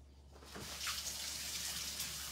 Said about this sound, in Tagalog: Nag-uumapaw na yun.